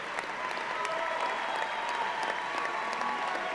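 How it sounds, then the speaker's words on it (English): A high school graduation crowd gives the band and chorus a steady round of applause, a dense, even wash of many clapping hands heard from within the audience, with no clear voices over it. "Let's give them one more round of applause while they take their seats"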